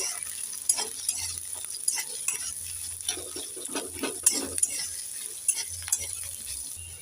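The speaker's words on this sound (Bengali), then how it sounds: "তিনটে কাঁচা লঙ্কা নিয়েছি চারটে শুকনো লঙ্কা নিয়েছি আর এখানে কিছু আদা আর রসুন নিয়েছি এইগুলোকে ভেজে নেব" Green chillies, dried chillies, ginger and garlic frying and being stirred in a pan for a fish paturi in gourd leaves, a steady sizzle with repeated scraping and clinking of a utensil, close and without talk.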